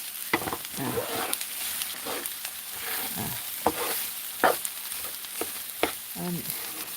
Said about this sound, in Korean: 이건 이제 밥을 이렇게 넣어서 볶아야죠.